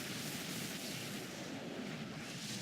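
A cannon booms in Shantae and the Pirate's Curse, a dense rumbling blast filling the short stretch without pause, with no talk over it.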